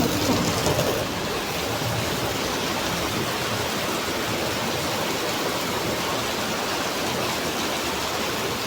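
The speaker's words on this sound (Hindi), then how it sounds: "अभी बारिश हो रही है और आवाज़ कैसी हो रही है" Steady rain falls close by with a dense, even hiss throughout, slightly louder in the opening second, with no voices over it.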